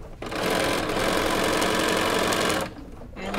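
A sewing machine runs steadily and loudly, stitching a quilted panel for a reversible tote bag, starting just after a brief pause and stopping near the end with a short gap before resuming.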